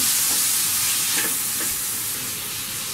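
Sliced tomato stirred into sizzling masala for Kerala egg curry, a dense, steady hissing fry with faint spoon movements, close and uninterrupted by voices.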